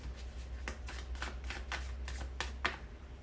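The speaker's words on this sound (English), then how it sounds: "I'm just going to keep shuffling." Tarot cards being shuffled by hand in repeated riffling bursts, close and crisp, about eight quick flurries with no talking.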